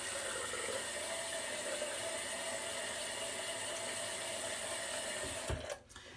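Running tap water splashes steadily as the face is wetted before a shave with Proraso cream, a continuous close rush that cuts off abruptly near the end.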